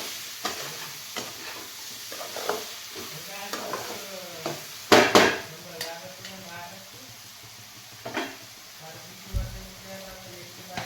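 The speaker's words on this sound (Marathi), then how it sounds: "असं थोडं परतून घेऊया आपण." Pav bhaji masala and vegetables sautéing in a pan for veg pulao, with a soft sizzle under repeated scraping and stirring clatters of a spoon against the pan, some sharp clanks standing out.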